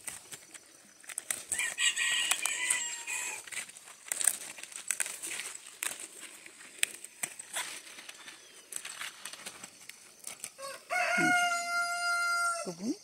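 Farm chickens and a rooster near a kale garden, with scattered clucks and rustling, then a loud, close rooster crow near the end.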